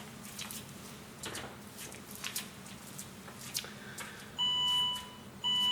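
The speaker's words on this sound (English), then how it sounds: "the beeping behind is the key that's still in the ignition in the car" A quiet background with scattered light rustles and taps, then two loud, sustained electronic warning beeps from a Saab car's key-in-ignition alert near the end, close and insistent.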